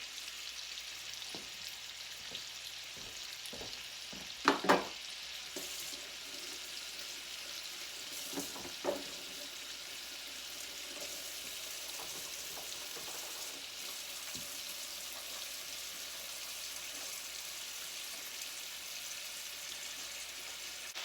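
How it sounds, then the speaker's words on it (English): Chicken pieces frying in a pan for a budget chicken meal, a steady soft sizzle running throughout with a few sharp clicks and knocks of utensils near the start. "We're going to cook it on this side for about 6 to 7 minutes and then flip it and cook the other side."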